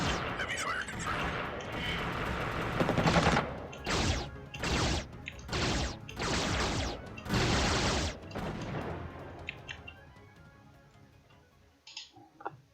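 Heavy gunfire in the video game Xenonauts: a sustained roar, then a series of five or six loud evenly spaced bursts, fading into quieter ticking and mechanical noise.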